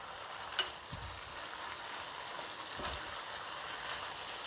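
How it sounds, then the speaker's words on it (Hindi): Okra (bhindi) cooking quickly in a pan over high heat, heard as a faint, steady sizzling hiss with a couple of small pops and no talk. "थोड़ी देर के लिए इसको हाई हीट पर हमने जल्दी जल्दी से कुक कर लेना है"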